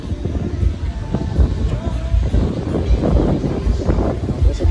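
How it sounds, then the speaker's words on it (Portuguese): Strong wind at Taperapuã beach in Porto Seguro blows continuously, rumbling and buffeting the microphone loudly throughout with no break in intensity. "Ih, rapaz, o vento tá forte."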